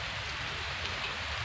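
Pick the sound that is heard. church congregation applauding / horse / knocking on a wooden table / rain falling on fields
rain falling on fields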